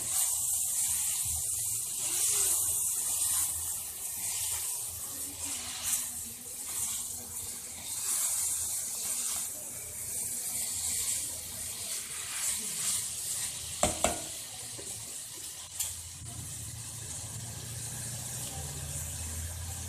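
Noodles and vegetables stir-fry on a low flame for a restaurant-style veg noodle dish, giving a steady soft sizzle with light scraping and stirring and a few sharper clicks of a utensil against the pan.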